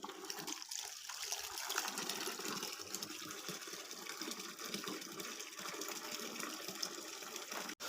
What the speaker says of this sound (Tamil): தண்ணி தாங்க பிடிச்சிட்ருக்கேன்